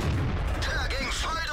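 A Panther/M10 tank gun fires in a video game, heard as a low booming burst followed by high whistling and ringing tones, loud and dense throughout the short clip.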